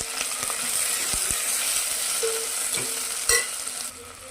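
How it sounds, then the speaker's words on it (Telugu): Tomatoes frying for sambar in a pan, a steady sizzle with occasional scrapes and knocks of a spoon as they are stirred, close and fairly loud, no talking. "టమాటాలు కూడా వేసేసుకుందాం ఒకసారి బాగా కలిపేసుకుందాము"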